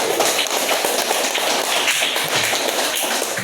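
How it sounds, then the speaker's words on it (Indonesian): A group of students applauds for the first team in a classroom, brisk overlapping hand claps forming a dense, even burst of clapping. "Tepuk tangan dulu untuk kelompok 1."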